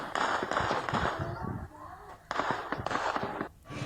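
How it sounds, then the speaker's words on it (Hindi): Gunshots fired by the Pakistani army at protesters in Pakistan-administered Kashmir, a rapid series of sharp cracks and pops, with people shouting and running amid the noisy outdoor scene. "तो गोलियों की आवाजें सुन रहे हैं आप"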